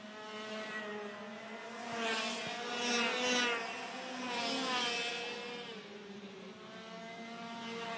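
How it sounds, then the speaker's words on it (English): An IAME racing kart engine running on track during an Asian race series event, a faint high buzzing whine that swells as the kart passes and fades away, heard from a distance. "the engine seems to be running smoothly, running well"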